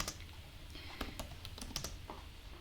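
SQL being typed on a computer keyboard, a quick, irregular run of light key clicks and taps, close but quiet, with no voices.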